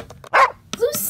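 A dog gives a short, sharp bark close by, set among spoken voices, with a brief yip trailing after it.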